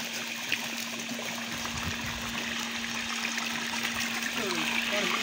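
A DC solar water pump, a 5x5-inch monoblock with a 7.5 horsepower motor, runs steadily, its water flow making a constant trickling, rushing wash with a low steady hum underneath throughout.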